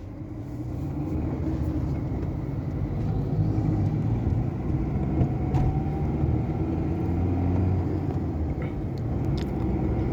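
A car's engine runs steadily while the car is driven on a road test after an RPM and AC fault repair, a continuous low rumble with road noise throughout and no talking.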